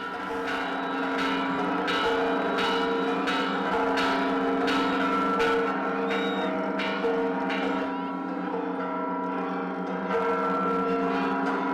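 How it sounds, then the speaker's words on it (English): Church bells ring at El Grito on Mexican Independence Day, struck in a steady series of about a dozen evenly spaced strokes over a sustained, humming crowd bed, at moderate distance. "that moment ringing the bell, which I heard in 2018, is definitely the main attraction"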